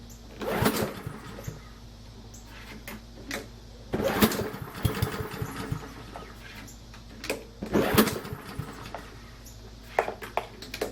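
A used self-propelled lawn mower's small engine runs steadily at a low rumble, with periodic louder surges and some clanking, heard from nearby at moderate volume.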